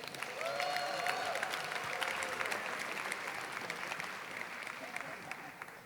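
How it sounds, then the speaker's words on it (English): A board meeting audience gives a sustained round of applause for the Golden Eagles, dense steady clapping heard at moderate distance, with some voices beneath. "one more round of applause for the Golden Eagles"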